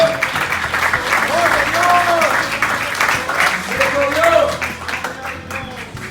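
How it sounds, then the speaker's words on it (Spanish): Church congregation applauding to the Lord during a sermon, strong sustained clapping with cheering voices and shouts rising over it, fairly close and loud throughout. "Dale fuerte el aplauso al Señor."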